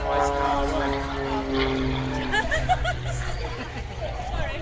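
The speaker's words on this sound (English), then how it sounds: "Just using the sheer power of the engine and the propeller there, pushing over the top with virtually no knots on the dial whatsoever." Propeller aircraft engine during an aerobatic loop: a sustained droning engine whose pitch shifts as the plane pulls over the top, heard alongside a loud crowd babble of voices close by.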